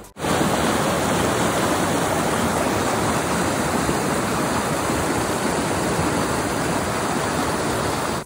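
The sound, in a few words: flowing stream water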